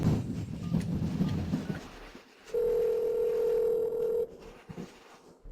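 A telephone rings out unanswered: a single steady electronic tone held for about two seconds after a low rumbling background, then quiet, during a stormy night.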